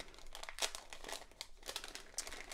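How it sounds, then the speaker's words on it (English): A paper envelope being opened for a leather dog lead sew-along kit, with close, steady crinkling and papery crunching, and a few sharper rips or tears across the short stretch. "So open your all the small things envelope"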